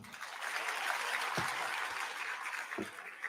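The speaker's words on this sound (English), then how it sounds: "Can we have another round of applause for him?" An audience at the IIT Bombay Tech Fest applauds a speaker: a fairly faint, continuous patter of many hands clapping in a large hall, with a few sharper thumps.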